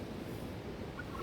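A male turkey on a spring farm gobbles during mating season while strutting and showing off, a faint, distant call low in a steady background hum.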